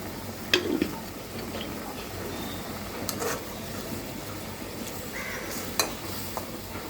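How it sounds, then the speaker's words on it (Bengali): Cumin powder stirred into food frying in a pan, giving a soft steady sizzle with light scraping of the spoon and a few sharp clinks against the pan, close and moderate. "তাই এখনই দিয়ে দিচ্ছি জিরার গুঁড়োটা"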